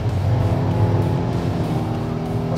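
Race car driven at full throttle around the Nürburgring, its engine roaring loud and steady with strong low harmonics, sustained without a break.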